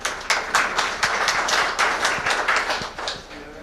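A conference audience applauds, many hands clapping in a dense, steady patter with a loose rhythm, fairly loud and close, with no voices over it.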